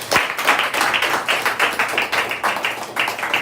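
A seated audience at a health awareness meeting claps loudly in a brisk, steady rhythm of unison beats that continues without a break.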